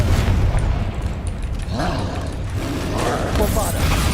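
Confringo fire-blast spell explosion in the Hogwarts Legacy video game, with deep booming, roaring blasts over several seconds amid other combat effects, mixed with voice-like sounds.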